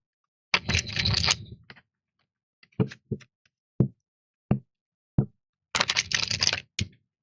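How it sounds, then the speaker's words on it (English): A tarot card deck is shuffled in two crisp, rustling bursts of cards, separated by several sharp, isolated knocks and taps in an otherwise quiet room. "I like the way this deck shuffles."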